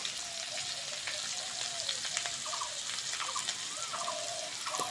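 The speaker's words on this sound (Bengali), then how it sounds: "এরম করে ভালো করে ভেজে নিতে হবে" Vegetables for a veg curry frying in a pan, a steady close sizzle with faint chirps and scraping sounds layered throughout.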